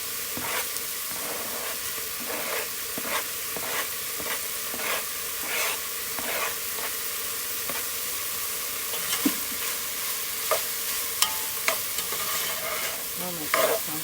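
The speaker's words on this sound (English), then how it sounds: "Go ahead and add our garlic" Garlic and onion frying in a pot for sausage and kale soup, a steady sizzle with repeated stirring scrapes and clicks of a utensil, close and continuous, no talking.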